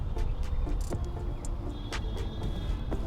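Tata Punch compact SUV driving off-road, a steady low engine rumble and throb with scattered knocks and rattles from the rough ground, close and continuous, with no talk.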